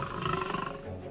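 A short, deep lion roar bursts out for about a second, loud and close, standing in for an ogre transforming into a lion.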